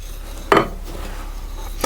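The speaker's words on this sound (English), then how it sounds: "I'll use a fork to do that. It's going to be easier to stir it in." A fork stirs ingredients into a digestive biscuit mixture in a bowl, giving one sharp clink of metal against the dish followed by faint scraping and a second light tap near the end.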